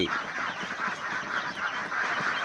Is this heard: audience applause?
no